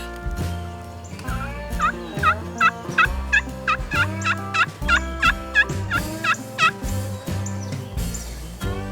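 A wild turkey tom gobbles repeatedly, a run of loud rattling calls in quick succession, close by and clear with no talk over it.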